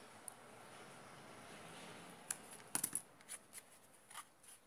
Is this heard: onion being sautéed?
no